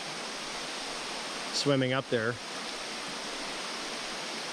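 A powerful river waterfall at Poza Los Coyotes near Liberia, Costa Rica, swollen after heavy overnight rain, gives off a constant loud rushing hiss. Someone speaks briefly over it midway.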